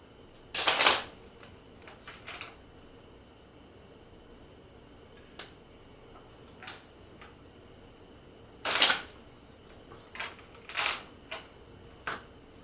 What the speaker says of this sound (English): you're just going to shuffle your deck